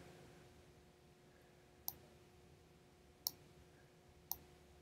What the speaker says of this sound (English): Again, I'm just clicking and dragging these.